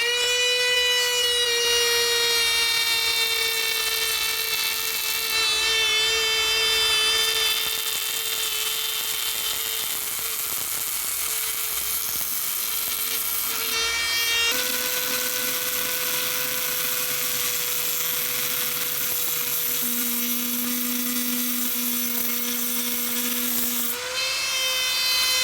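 A Dremel rotary tool whines at about 30,000 RPM, loud and continuous with a steady high pitch that dips and shifts briefly as it loads up, with no talk.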